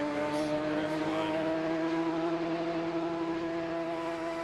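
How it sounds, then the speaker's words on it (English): Race car engines in a racing video game, Radical Cup cars at Road America, drone in a steady high-revving whine with buzzing harmonics, continuous and moderately loud with no talk. "I can barely hear you over these engines sometimes."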